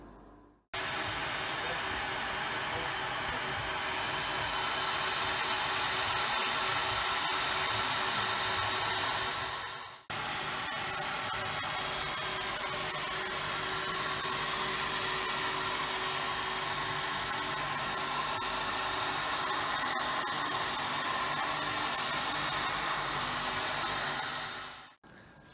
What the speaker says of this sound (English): the machining of the patented braking surface takes place.